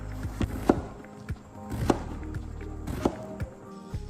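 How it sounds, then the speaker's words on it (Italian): A knife chops peeled eggplant into chunks on a cutting board, giving a series of sharp, separate taps in a loose rhythm, fairly close and moderately quiet. "Le tagliamo a tocchetti"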